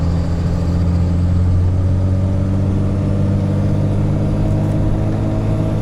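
Loud, close diesel drone of a Ford truck swapped to a Cummins engine, pulling a trailer uphill toward full speed, a dense low rumble holding steady throughout with no talk.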